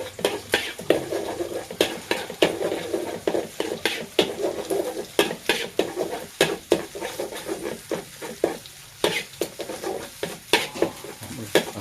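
Eggs stir-fry in a pan as the first step of a jackfruit-and-egg dish, with a low sizzle under rhythmic, close spatula scrapes and clacks against the pan, repeating steadily.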